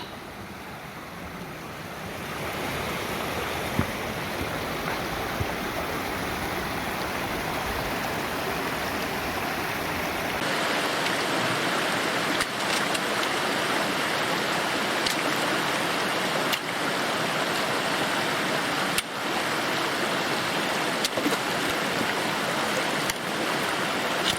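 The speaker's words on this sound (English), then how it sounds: "of course the sound of running water, early or late in the day, is always welcome" Running water of the Afon Hafren river on a mountain day walk: a steady, close rushing wash with some wind noise, shifting in tone partway through as the position changes.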